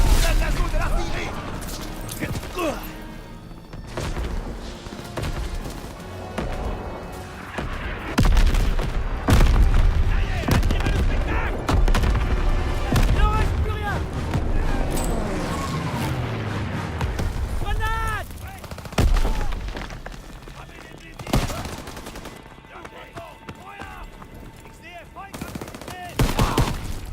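Call of Duty WWII D-Day campaign battle: sustained machine-gun bursts, rifle shots and heavy artillery booms crowd together for the whole stretch, loud and dense, with soldiers shouting amid the fire.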